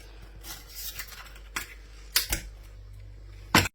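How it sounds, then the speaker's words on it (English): A knife works open a mussel shell and cuts the meat free, producing a few sharp scraping clicks and crunches between quiet pauses, ending in a loud crack. "So you can get the knife in there, roll it around the bottom of the shell, up there to cut that mussel, open it up"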